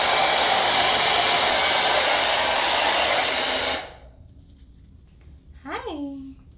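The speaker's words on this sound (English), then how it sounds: "we'll kind of blow dry this back here and then this back this way." An Instyler smart blow dryer blasts loud and close as hair is dried, a steady rushing roar that cuts off abruptly after about four seconds, followed by a short bit of talking in the quiet.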